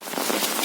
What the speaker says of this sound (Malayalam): നല്ല അടിപൊളി മഴയായിരുന്നു